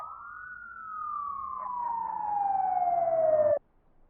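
A single emergency siren wails in a long, steady downward sweep, growing louder over several seconds before it cuts off abruptly.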